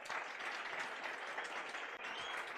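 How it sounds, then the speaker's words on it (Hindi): A class of students claps hands during a lecture on financial management, a dense, even patter of many hands that sounds quiet and somewhat distant, holding steady for the whole stretch. "ताली बजाओ भाई."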